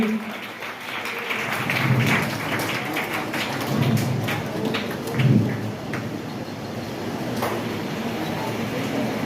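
An audience at a felicitation program applauds with a dense, sustained wash of clapping that swells and falls, with some talk mixed in.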